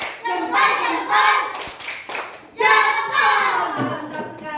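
Children in an Indonesian classroom clap along to a thumb-clapping song, two bursts of close, busy hand claps with a short gap between them, mixed with young voices chanting.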